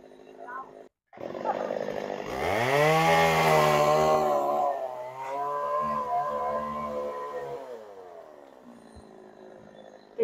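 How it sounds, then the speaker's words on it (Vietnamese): A chainsaw cutting a coconut tree revs up loudly and runs steadily, its pitch rising and dipping as it bites, close by with a brief pause at the start. "Dừa này á, chú Năm cho mẹ của mình kêu chú Tám vào cưa để đem về bắt cầu."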